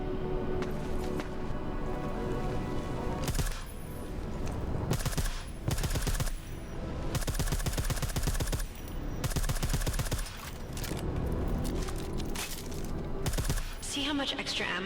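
Suppressed gunfire in Deus Ex: Mankind Divided, rapid bursts of muffled shots in several clusters, fairly close, mixed with game background noise.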